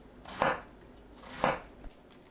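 A knife cuts eggplant into finger-thick pieces on a board, giving two crisp chopping strokes about a second apart and a faint later tap, close and clear with no talk.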